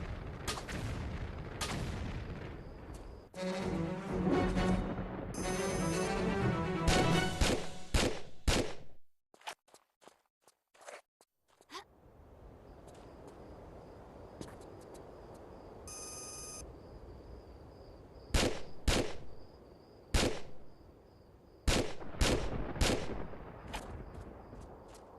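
Gunfire from the remastered Tomb Raider 4, with sharp shots scattered through the stretch, including a clustered burst early on and several loud, spaced reports near the end, separated by a quiet gap.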